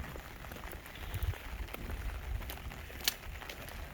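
Light rain falling outdoors during a walk, a soft steady patter with scattered faint drips and small taps, quiet and without talk.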